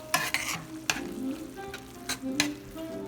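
Cherry tomatoes char in a very hot pan under a soft background sizzle. Several sharp scraping stirs and clatters stand out above it, close and intermittent, with no talking.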